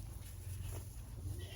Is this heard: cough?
no